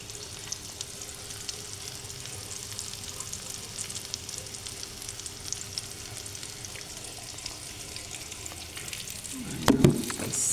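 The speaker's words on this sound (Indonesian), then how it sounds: "Ini kita udah mulai proses manggang pisang ya" Ripe bananas grilling in margarine in a pan, giving a steady close sizzle and crackle throughout, with a brief louder clatter near the end.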